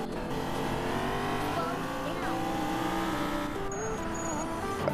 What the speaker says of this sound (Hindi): गाड़ी करते हैं स्टार्ट और चलते हैं सीधा वहां पे